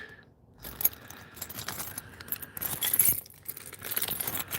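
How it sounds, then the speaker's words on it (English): A bunch of keys jingles and clinks continuously for several seconds as it is pulled out on a bitterly cold winter day, close up with metallic rattles and small knocks. "Let's break out the keys real quick."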